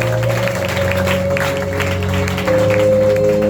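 A church congregation applauds in a steady wash of clapping that swells louder toward the end, with a sustained organ or keyboard tone beneath.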